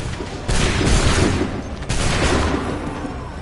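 A soldiers' musket volley in Assassin's Creed III: two loud, broad crashing blasts of massed gunfire, each trailing off into a dense rumble, close and filling the scene.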